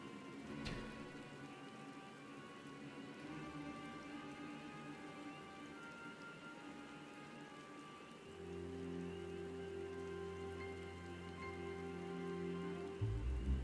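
Rain falls in a dark, thorny area in Final Fantasy XIV, a faint, continuous patter blended with soft background music that grows slightly fuller partway through.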